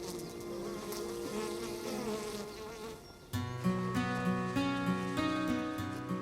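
A dense swarm of honey bees drones around beekeepers in protective suits, a close, sustained buzzing hum that grows louder and more tonal partway through, with no speech.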